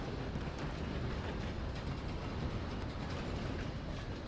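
A moving train in the video game Red Dead Redemption 2 rumbles steadily and loudly, a continuous broadband roar of rolling wheels and wagons with no pauses.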